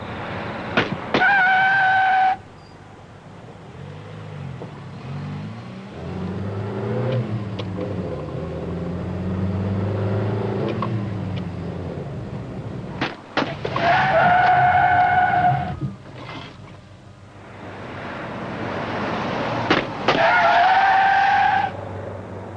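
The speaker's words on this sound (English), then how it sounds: "The first test was the braking test again." A car brakes hard with repeated loud tire squeals and skids, separated by a stretch of engine running and accelerating, all close and loud in a 1980 braking test.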